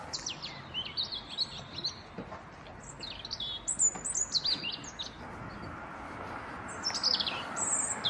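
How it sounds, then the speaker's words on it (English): Several birds chirp and tweet in Bodmin, Cornwall on a sunny day, with bright, high calls scattered through the clip over a steady low outdoor hum and no voices. "The birds are singing"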